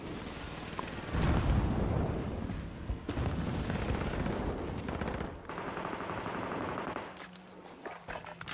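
Rapid bursts of automatic gunfire from a shooting video game rattle close and loud, with heavy booming blasts mixed in and no one talking over them.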